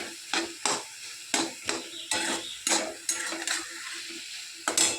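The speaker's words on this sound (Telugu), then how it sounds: "కలిపెడుతూ ఉండాలండి, లేకపోతే అంటుకుంటుంది." A leafy vegetable curry stirred in a pan, with a run of distinct scraping and clinking ladle strokes against the pan at an uneven rhythm over a faint background sizzle, no talking.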